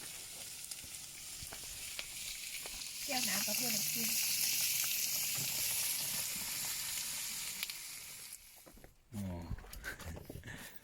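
Pork sizzles loudly on a Thai moo kratha tabletop grill in a steady hiss, with someone talking over it and a brief pause near the end.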